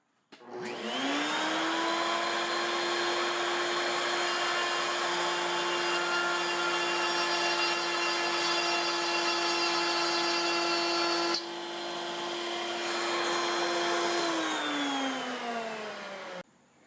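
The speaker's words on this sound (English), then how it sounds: "I'm simply going to drop the panel over the bit, let it cut" A router bit cutting slots into a solid wood back panel for a grandfather clock: a steady, loud, high-pitched whine spins up, holds for about fifteen seconds with a brief change in tone midway, then winds down, with no talking.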